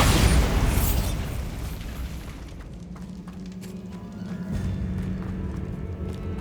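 The Bombarda spell explodes in the video game Hogwarts Legacy: a loud, deep boom bursts at the start and rumbles away over a few seconds, then low game ambience continues.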